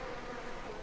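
Bees buzzing around placed beehives on a farm in Farmer Dynasty, a faint, steady droning hum that holds evenly without breaks and with no talking.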